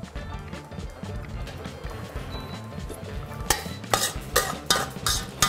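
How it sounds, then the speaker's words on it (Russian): A spoon stirs salt into thick 25% sour cream in a bowl, with a low scraping swirl at first, then several sharper clinks of the spoon against the bowl near the end. "Перемешиваем соль, пробуем на вкус."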